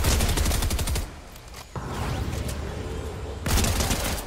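Video game gunfire from an online shooter match with SMG weapons: dense bursts of rapid shots at the start, a quieter stretch with scattered pops, then another loud volley near the end.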